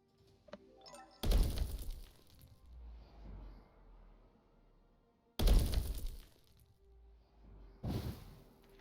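Objects shatter and break in the video game Pulatia, three loud crashing impacts with crumbling debris and rumbling tails, spaced apart with quieter stretches between.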